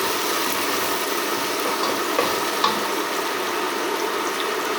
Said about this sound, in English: So I've added 2 small onions, and I'm just going to let that fry.